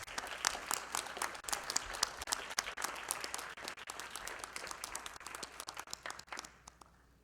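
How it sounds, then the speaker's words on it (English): Audience at an Internet Governance Forum awards ceremony claps steadily for about seven seconds, a dense, even patter of many hands that thins out near the end. "Please, let's give Nicolas a round of applause"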